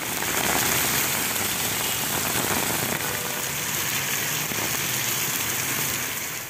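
Heavy rain pours down in North Chennai around Royapuram, Tiruvottiyur, Manali and Ennore, making a dense, steady hiss without a break.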